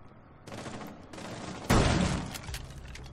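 Shotgun fire in Rainbow Six Siege during a ranked match: a few rapid shots and impacts build to one loud, close blast, followed by a fading rumble.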